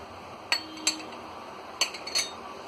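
Spoon clinking against a bowl while chicken pizza marinade of black pepper, salt, red chilli powder and oil is mixed, a few sharp separate taps with quiet gaps between.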